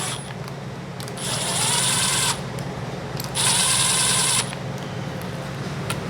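A power tool runs small cylinder head bolts down on a 392 HEMI engine, two short whining bursts of about a second each rising over a steady shop background, close by.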